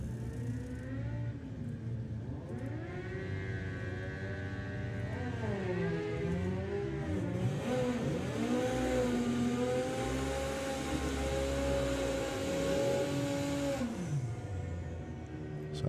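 Triumph and Kawasaki motorcycles at a drag racing event rev and accelerate, with engine pitch climbing and sweeping through gear changes at a distance, layered over a constant background hum.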